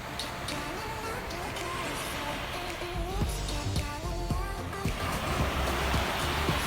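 Ocean surf washes steadily onto a Turks and Caicos beach, a continuous broadband rush with soft swells, heard moderately close with faint background voices mixed in.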